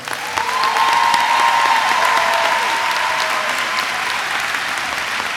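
Sustained, full applause rolls through the hall at a 2018 TCNJ elementary and early childhood education commencement as a row of graduates is honored, many hands clapping evenly with a faint whistle-like tone early on.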